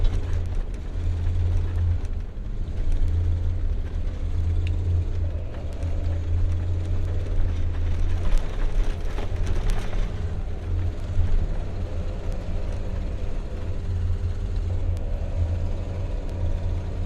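An RV drives through thick sand with a continuous low engine rumble and drone, steady and close, and no voices.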